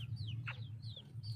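A sick chicken with a cold breathes with faint, close wheezing and rasping, giving short squeaky whistles and one brief louder burst over a steady low hum.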